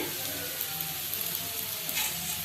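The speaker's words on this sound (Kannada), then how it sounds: "ಇವಾಗ ಕರಿಬೇವನ್ನು ಸೇರಿಸ್ಕೊಳ್ಳೋಣ." Curry leaves hit hot oil in a pan for a Karnataka green gram side dish, producing a dense, steady sizzle and crackle that flares briefly near the end, with no one speaking.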